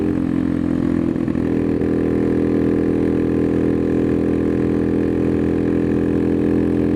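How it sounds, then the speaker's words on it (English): A Honda Cub motorcycle engine pulls uphill under throttle with a loud, steady, close drone. It settles into a sustained mid-pitched hum after a brief shift early on. "Going up a bit of a hill now, so let's apply for some throttle."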